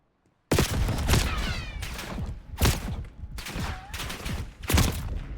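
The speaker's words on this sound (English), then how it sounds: "that was me shooting back, by the way" Gunfire from a player shooting back in a first-person shooter video game, loud bursts arriving in several separate volleys over about five seconds, each a sharp crack with a trailing rattle.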